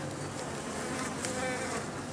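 Honey bees buzz inside a hollow bee tree where swarm cells have formed, a dense, steady hum filling the whole moment, close by and unbroken, with no voices over it.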